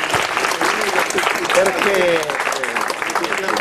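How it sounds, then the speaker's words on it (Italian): Warm, continuous applause from guests at a 102nd birthday celebration for a great-grandmother in a care home in Palizzi, dense clapping throughout with voices chattering and calling out over it. "facciamo un bel applauso a questo punto a Don Andrea"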